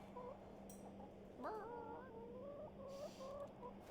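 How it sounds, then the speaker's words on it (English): Chickens clucking in the adventure game The Excavation of Hob's Barrow, a few quick, close clucks and a rising squawk over a low steady hum, alone without talk. "There's nothing here but chickens."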